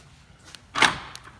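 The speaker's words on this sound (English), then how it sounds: "when you lock and unlock the doors on this thing, it sounds like a shotgun or something" A single quick mechanical clunk of Mercedes G63 G-Wagon door locks engaging, sharp and close like a shotgun, with faint clicks around it in a quiet setting.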